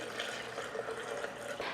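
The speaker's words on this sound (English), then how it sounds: "For this cucumber juice, we add water in" Water streams into a blender with chopped cucumber for cucumber juice, a continuous close splashing pour with slight gurgles lasting under two seconds.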